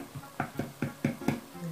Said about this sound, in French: Je vais faire des petits trous avec la fourchette.